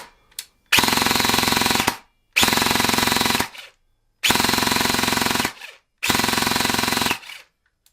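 Four long bursts of full-auto fire from an airsoft replica, each roughly a second long with short gaps between, loud, close and steady in rate, with no talking.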